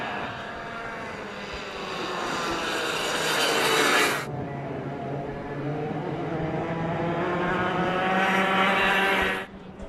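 Mini Swift single-speed two-stroke racing karts scream past at a winter karting league event at Adams Motorsports Park, a sustained high-pitched engine drone that swells, cuts off sharply, then builds again as the pack passes.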